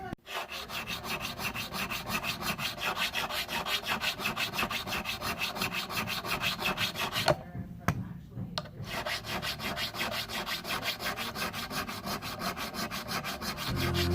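Guitar frets on a Stratocaster neck are leveled by hand with a 300 grit diamond abrasive. The steady, close rubbing strokes continue nearly nonstop, with one short pause partway through.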